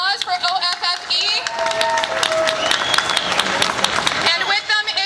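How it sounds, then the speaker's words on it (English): Audience applause at a Veterans Awareness Day gathering honoring OFFE, a dense, steady wash of clapping and cheering crowd noise, with voices mixed in throughout. "May I have a round of applause for OFFE?"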